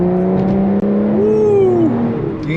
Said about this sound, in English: You can just hear that exhaust note open right up with the V12